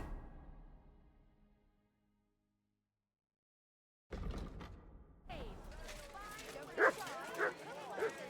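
A dog in the medieval role-playing game Kingdom Come: Deliverance II gives short barks and whimpering yips close by, mixed in among a man's spoken lines after a quiet stretch.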